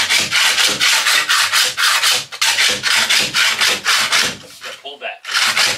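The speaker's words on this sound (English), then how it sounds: "Our big scraper right here seems to do the trick." A big scraper is pushed and pulled beneath a school bus converted into a skoolie, making loud, close, rhythmic rasping strokes in a quick steady series, with a brief pause near the end before scraping resumes.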